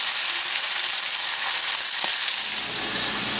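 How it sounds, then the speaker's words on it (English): Chicken pieces sizzle in one tablespoon of unseasoned olive oil in a pan over medium-high heat, a loud steady close hiss that eases slightly toward the end. "the pan has 1 tablespoon of olive oil, unseasoned. Medium-high heat. Straight in, and these are going to cook for about 3 or 4 minutes."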